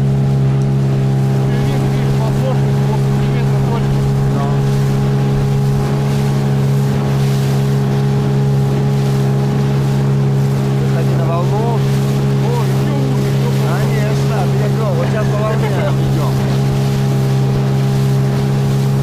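Motorboat with a Suzuki outboard engine running Siberian taiga river rapids: a loud, steady close engine drone throughout, with splashing water and wind, and people talking over it.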